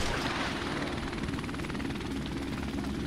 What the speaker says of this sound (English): Ah, chopper, don't kill me, please.